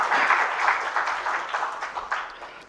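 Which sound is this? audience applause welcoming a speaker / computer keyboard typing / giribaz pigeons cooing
audience applause welcoming a speaker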